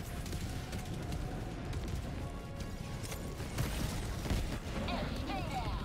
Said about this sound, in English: It's a lot of explosions right now by me.